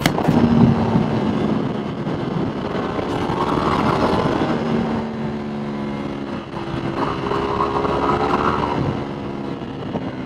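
Ducati 848 motorcycle engine on the road, a loud, close, continuous roar whose pitch climbs and falls as the revs change over ten seconds of riding.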